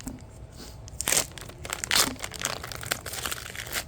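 A package of whole milk mozzarella cheese is torn open, close crinkling and crunching plastic in bursts of rustle with two louder rips, fairly quiet overall.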